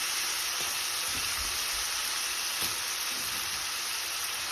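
Bitter gourd hisses and fries in spiced oil in a pan, a steady broadband sizzle that holds throughout, with a few faint low bumps of stirring underneath.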